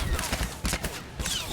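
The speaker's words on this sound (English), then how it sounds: "Stop shooting me!" Gunfire in Star Wars: The Old Republic, a quick burst of blaster-like shots in rapid bursts, loud and close, with game noise mixed in.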